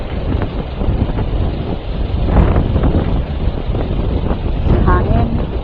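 Strong wind buffets the microphone outdoors at Causeway Bay, a loud, steady rumbling roar with gusts throughout, while a person talks intermittently over it.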